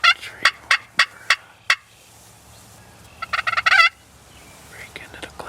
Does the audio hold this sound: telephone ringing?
no